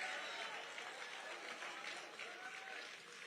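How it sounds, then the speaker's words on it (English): An audience at an evening event breaks into applause for two honorees, a dense, steady wash of clapping from a crowd, with voices mixed in underneath. "Can we give Roland and Dr. Eric a huge round of applause?"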